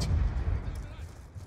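Gunfire in a Call of Duty match aimed at the player, a burst of heavy low booming shots that fades into softer scattered rumbling, with no talking.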